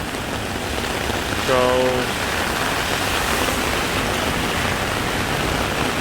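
Heavy rain pours down steadily on a Bangkok street, a dense, loud wash of noise throughout, with a brief voice speaking over it.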